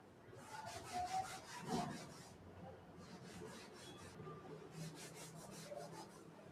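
Rubbing to erase a board during a medical lecture, heard as three bursts of quick scrubbing strokes, close and quiet, with faint room noise between them.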